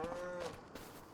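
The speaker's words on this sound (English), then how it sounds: "this holds 54 cows, and I got the old black and whites Holsteins" A single Holstein cow moos inside a barn that holds 54 cows in Farming Simulator, one low, drawn-out call, faint, over soft barn ambience.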